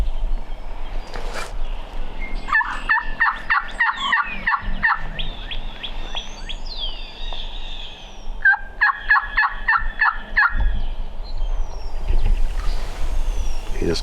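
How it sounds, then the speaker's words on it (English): A distant wild Iowa gobbler in spring calls twice, each burst a rapid rattling string of gobbles, heard faintly across open ground against a steady outdoor background. "He just gobbled again."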